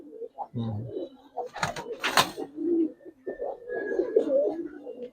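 Giribaz aluminium silver coloured pigeons coo in a loft, a few close, soft throaty calls with wing flutters and rustling between them.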